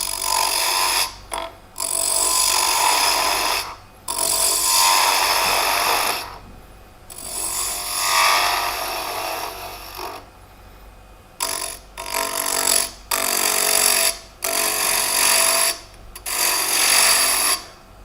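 Wood lathe turning a Christmas ornament held in a chuck, a 3/8 spindle gouge cutting it down in repeated bursts of hissing, scraping noise with short pauses between passes, close and fairly loud.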